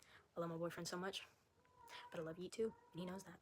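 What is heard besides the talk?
cat in heat meowing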